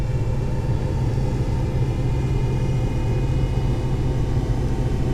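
The engine of a Douglas World Cruiser biplane in a flight simulator drones with a steady, loud, low rumble. The tone stays constant with no break, and no voices are heard.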